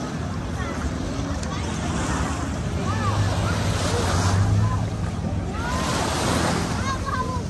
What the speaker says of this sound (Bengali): এখন আমাদের বোটটা এখন ছেড়ে দিচ্ছে